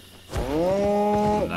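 A cow in Albion Online gives a single long, drawn-out moo, loud and close, swelling then tailing off over a quiet game background.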